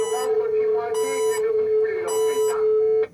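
An alarm signal rings in a train driver's cab at Gare de Lyon, a steady tone joined by three bursts of a harsh buzzing ring, close and loud, with a voice talking underneath.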